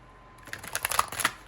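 Tarot cards riffle and flap together in a quick, soft shuffle, a brief flurry of papery snaps close by.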